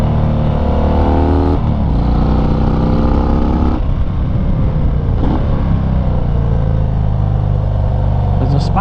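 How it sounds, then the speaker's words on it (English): A 2019 Harley-Davidson FXDR 114 motorcycle riding along mountain roads, its engine droning loud and close with steady harmonic rumble and shifts in pitch as it changes gear, mixed with wind noise. "this bike is absolutely a blast to ride through these mountain roads"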